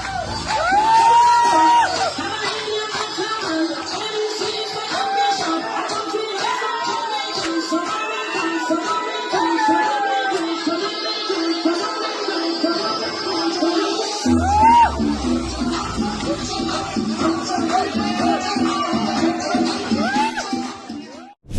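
Party crowd at a five-star hotel cheering and whooping over loud dance music, a dense, continuous roar of voices with shouts rising and falling throughout.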